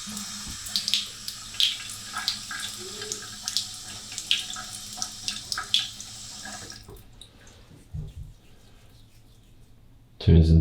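Tap water runs into a sink for a face wash, a steady splashing stream for about seven seconds before it shuts off, followed by quieter drips and handling noises.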